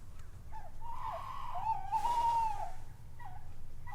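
Tawny owls hooting in the dark around an abandoned building, one long quavering hoot rising and wavering at close range over a quiet, faint background hum.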